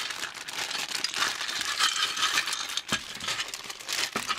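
Thin plastic packaging bag around a Magewrath Throne model kit crinkling and rustling continuously up close, with a few sharper crackles and taps.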